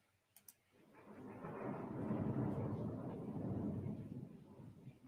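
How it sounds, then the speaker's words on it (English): Distant thunder rumbles low and faint during a storm in Sacramento, swelling gradually into a long rolling roar before slowly fading. "That's thunder"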